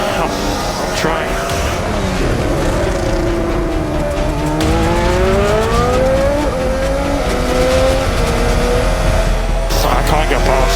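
Formula 1 race cars scream past at around 200 miles an hour on a back straight during a 2023 race involving Lando Norris; loud, rising and falling engine whine with tire noise, and voices talking over it.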